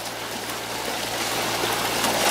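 Steady rushing wash of water running over sluice mats during a gold-prospecting cleanup, a broad, loud, unbroken hiss with a low mechanical hum beneath it.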